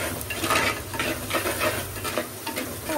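A spoon stirring fish curry with chili powder in a pot, soft close scraping and light clinks of utensil against metal over a low sizzle, no talking.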